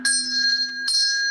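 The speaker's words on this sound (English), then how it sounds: "we're going to take a deep breath in on the count of the chime." A chime rings twice in a sound healing session, each strike giving a clear, sustained metallic tone that hangs steadily before the second strike rings out, with no talking.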